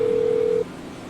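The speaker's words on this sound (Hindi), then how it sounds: "फोन उठा ले बाबे।" A steady electronic phone ring tone in the video game GTA, a single sustained tone lasting just over half a second before cutting off into quiet background.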